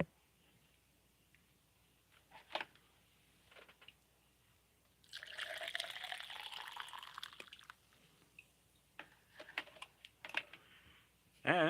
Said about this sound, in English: And this is the sound of me getting coffee.